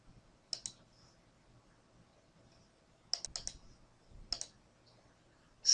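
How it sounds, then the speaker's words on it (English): A computer mouse clicks in short pairs and single taps, crisp and close, spaced out by quiet pauses over a low background hum. "I just click it one time."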